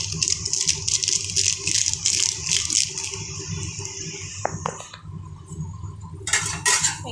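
Fried potatoes with spice mix are stirred in a pan, a spoon scraping and clinking against metal over a steady background hiss, then a brief pause before more scraping.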